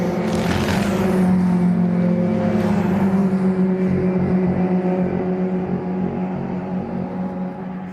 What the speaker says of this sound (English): Every time I see Rothery's car come through, it makes this wicked sharp noise.